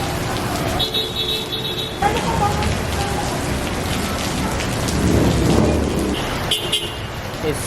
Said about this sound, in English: It's only been raining for 1 hour or so, and yet look what's happened.